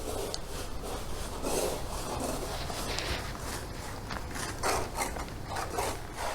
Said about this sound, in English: it's literally just a woman scraping ice off her window